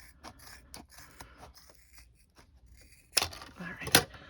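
Scissors cut a Cosplayflex foam bracelet shorter. Quiet rustling and handling come first, then two sharp, close snips about a second apart.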